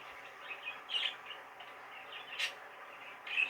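Soft, sporadic chirps from a young opaline budgerigar, a few brief high calls spaced apart over a faint background hum.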